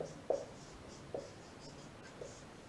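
Handwriting on a board or page during a Sanskrit grammar lesson: three or four short, faint writing strokes spaced apart against a quiet room.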